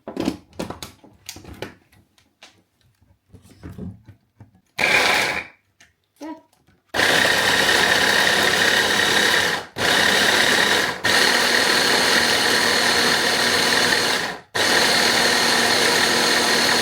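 A kitchen blender whirs loudly in long steady bursts, stopping briefly between runs, after a quieter stretch of clatter and brief sounds at the start.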